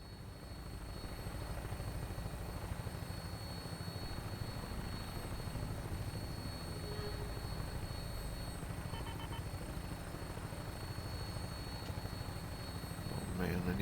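Aircraft engine drone in Fallout 4 during a flight approach, a steady loud rotor-like whir and hum sustained throughout at close range, with a faint voice briefly under it.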